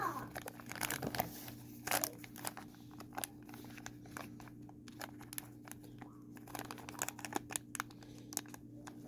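A small plastic parts bag for a radio-controlled crawler servo crinkles and rustles in quick, close bursts, quiet and irregular over a low steady hum; no talk.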